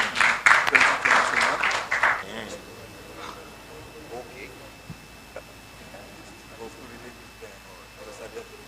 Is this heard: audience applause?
yes